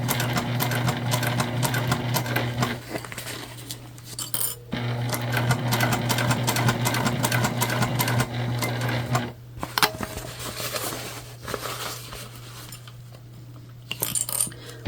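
A sewing machine runs in long steady bursts as it stitches a shoulder bag made from recycled material, its motor humming and the needle clattering, with brief pauses and small handling clicks between runs.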